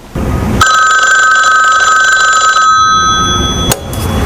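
A telephone bell rings loudly and close, one sustained metallic ring lasting a few seconds, then a short second burst after a brief gap, with no talk over it.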